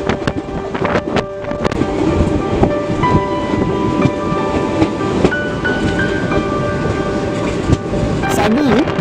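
A train out of Sealdah station rumbles along continuously with dense, heavy rail clatter, scattered knocks and tonal squeals over steady wind noise, loud throughout.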